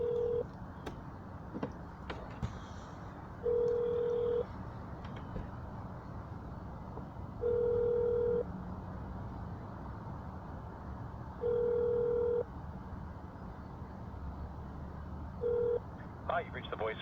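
A phone line rings in evenly spaced bursts, about five in all, while a call to a city office is transferred. The rings sit over faint background hiss, and no one speaks.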